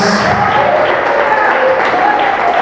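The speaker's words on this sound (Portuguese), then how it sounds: "Vamos aplaudir o Senhor." A church congregation claps in praise of the Lord during a live worship service, loud continuous applause with tonal music or singing running underneath and voices mixed in.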